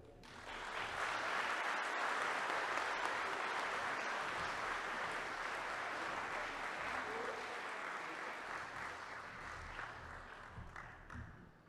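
Warm applause from an audience at a seniors' recognition event swells and holds for about ten seconds, a dense, even patter of many hands clapping that fades slightly toward the end.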